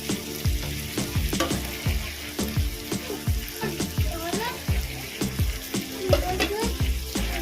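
Lote fish is added to a hot pan for a fish bharta and fries, a steady sizzle broken by rhythmic scraping and stirring strokes close by.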